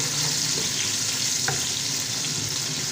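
Onions frying in a pan for Lahori-style pulao give a steady, close, even sizzle that runs without a break, with one brief clink partway through and no talking.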